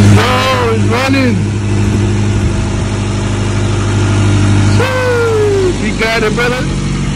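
A damaged Mitsubishi Lancer's engine runs loudly at a steady idle nearby, its low drone constant throughout while excited voices talk and shout over it.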